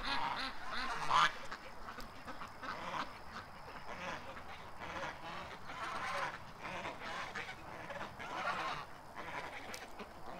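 Ducks being fed outdoors quack in repeated bursts, several birds calling over one another in an excited, uneven chorus, fairly near but moderate in level, with no talking.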